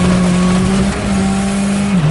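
A rally car at speed on the Safari Rally, running close behind Tommy Mäkinen's car, gives a loud, steady engine drone that holds an even pitch for the whole stretch, with no voices.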